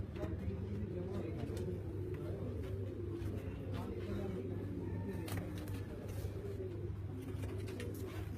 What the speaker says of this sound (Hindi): बिलाल साहब के परवाने कबूतर